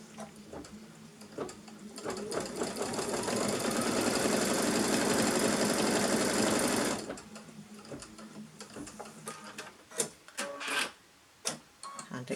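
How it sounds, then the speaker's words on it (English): A sewing machine runs steadily for several seconds, stitching layered fabric pieces for quilting, then stops, leaving quieter handling noises and a few sharp clicks near the end. "So there's my third piece of fabric face down over the second, and it's stitching in place."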